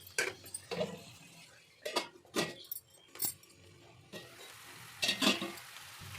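Amaranth leaves frying in a pan, stirred with a metal spoon: soft sizzling under a series of close scraping and clinking strokes against the pan, with no voices.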